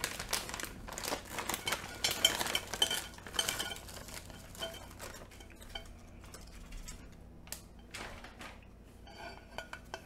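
Food poured through a sieve into a pot, with clinking utensils, scraping and rustling over ten seconds, fairly close and with no talk.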